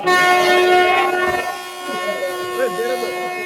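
A train at a busy station sounds a long, loud horn of stacked steady tones that slowly fades, with wheel and carriage noise and people talking underneath.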